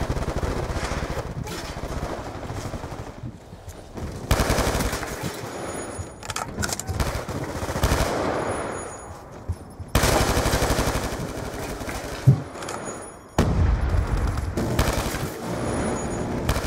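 The Death Machine minigun in Black Ops 2 fires in long, rapid, continuous streams split by a few short gaps, loud and close, with game effects and distant gunfire underneath.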